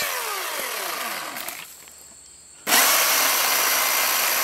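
A Milwaukee cordless chainsaw cuts through hard ash wood, its steady whine easing off briefly before revving back up loud and continuous, with no talking.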